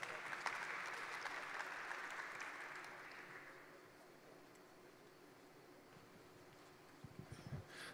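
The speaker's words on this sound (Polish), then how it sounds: "Wielkie brawa." Applause from a conference audience welcoming panel guests to the stage, a dense clapping wash that starts strong and gradually thins and fades away, with a few faint knocks near the end.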